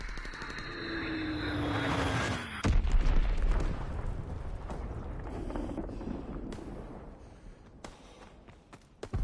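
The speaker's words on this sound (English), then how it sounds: "Enemy bomb incoming! Get to cover!" An enemy bomb detonating in a combat video game: a rising whine, then a heavy boom that rolls and rumbles for several seconds before fading into lingering debris and noise.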